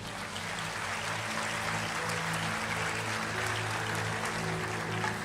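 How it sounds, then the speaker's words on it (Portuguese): Church congregation applauding together during a Brazilian evangelical service, a steady wash of clapping sustained across the whole stretch, with a low organ or keyboard tone droning underneath. "Dê um aplauso ao Senhor."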